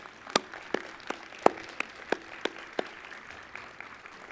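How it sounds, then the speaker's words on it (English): Sparse, scattered clapping from a small commencement audience: a handful of distinct, separate claps spaced irregularly over four seconds, fairly faint and slightly distant, with no dense ovation building up. "please join me again with a round of applause to honor Dr. Calvin."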